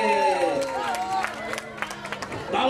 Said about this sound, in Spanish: ¡Un aplauso para el faraón y para el ausente!